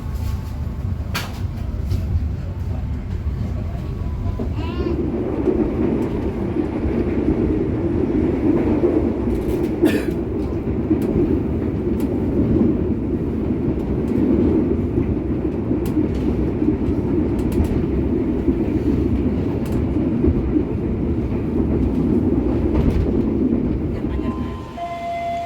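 Harina economy premium train rolling along after departing Cimahi station, a steady rumble and clatter heard from inside the carriage that swells slightly as it gathers speed, continuous throughout.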